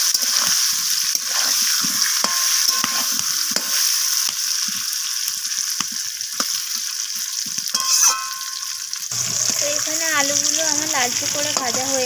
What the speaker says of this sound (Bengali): আলুর সাথে মিশিয়ে নিয়ে আলুটাকে লালচে লালচে করে ভেজে নেব